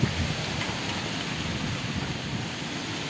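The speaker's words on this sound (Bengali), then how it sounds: "এই যে বৃষ্টি পড়তেছে দেখেন" Broad, steady rush of rain falls continuously in a village in the Khulna region of Bangladesh, fairly loud and even, with no voices.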